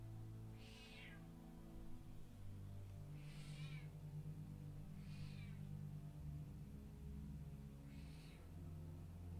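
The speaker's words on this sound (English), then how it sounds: "It's a kitty." Cat meowing four times in a slow series of separate drawn-out mews, fairly clear over a low background hum, with no talk.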